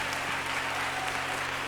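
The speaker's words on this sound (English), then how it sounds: "give the students a hand clap because they are responsible for all the wonderful achievements" An audience applauds students of a university gospel choir at a ceremony, a sustained, moderately quiet wash of clapping over a faint steady electrical hum.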